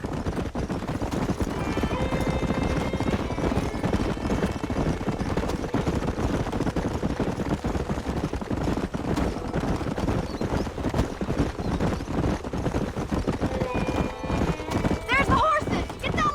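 Galloping horses in the Western video game Red Dead Redemption pound in a constant clatter of hooves, with whinnies breaking through near the start and again near the end, and people talking over the action.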